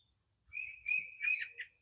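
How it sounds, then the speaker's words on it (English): Small birds chirp and whistle in a backyard, a few thin high calls in quick succession against an otherwise quiet outdoor background, fairly close and clear. "I got birds and stuff out here."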